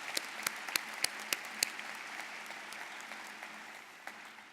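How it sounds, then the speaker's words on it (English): An audience at a civic event applauds volunteers with a fairly quiet, steady wash of clapping. A few sharp, louder claps stand out near the start, and the applause gradually tapers away. "Let's give these people a round of applause for their many hours of work."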